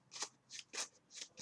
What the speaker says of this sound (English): Obviously, I gotta shuffle.